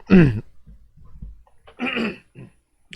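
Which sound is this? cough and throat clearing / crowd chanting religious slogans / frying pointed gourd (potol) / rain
cough and throat clearing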